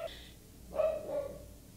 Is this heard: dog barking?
yes